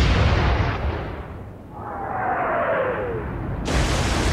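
Warship main guns in Atlantic Fleet: a heavy broadside roar fading into a whistling shell flight, then another loud blast cutting in near the end, all close and dense with no talking.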